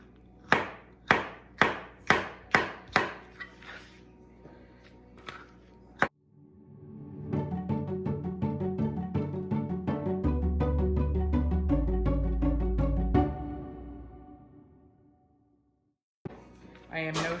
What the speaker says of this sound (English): So I'm just gonna chop these probably 1/4-inch chunks here.